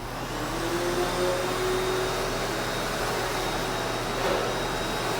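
A vacuum cleaner runs steadily over a small area rug, a constant close, loud motor whine and airflow roar holding at an even level with no talking.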